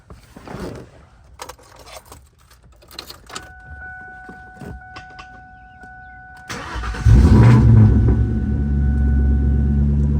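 After some clicks and rustling, a 1999 Kenne Bell Cobra engine cranks and roars to life loudly, then settles into a deep, rumbling idle up close.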